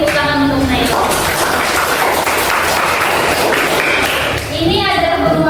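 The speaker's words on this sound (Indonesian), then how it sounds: "Beri tepuk tangan untuk Naila." A classroom of children claps and cheers together in a sustained burst of applause, loud and close, with children's voices mixed in.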